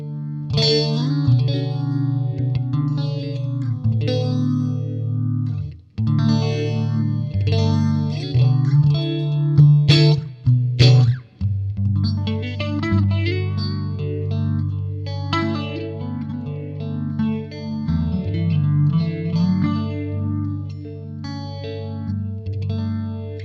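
Electric guitar played through Xvive mini pedals with a tube amp expander and reverb, heard as chorus-rich, distorted chords and notes ringing with echo, sustained and steady, with no talking.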